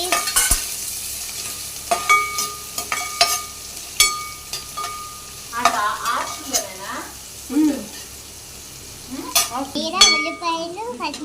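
Onions and green chillies frying in a pan while being stirred, with repeated scraping and clinking strokes over a steady sizzle, close and fairly loud, with a few soft sounds of someone moving nearby.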